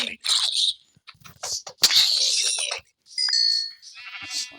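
Sheep bleat in a zombie-survival video game, short nasal cries rising near the end of the clip, mixed with game effects and someone talking over much of it.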